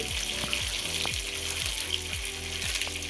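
Green chilies and ginger frying in butter in a pan, a loud continuous crackling sizzle with rhythmic spluttering pops.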